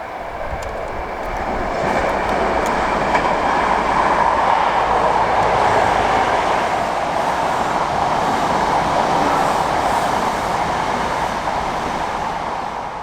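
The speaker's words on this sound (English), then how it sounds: "there's a HST on a special" A High Speed Train (HST) running as a special passes Ravensthorpe station near Dewsbury, a steady, loud rushing roar that swells and holds for about ten seconds before easing slightly, with no voices.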